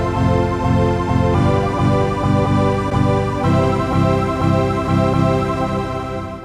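A resampled granular synth patch on a Sonicware Liven Texture Lab plays with shimmer reverb, giving dense, sustained harmonic tones that pulse in a steady rhythm and shift chords at intervals, loud and unaccompanied by voice.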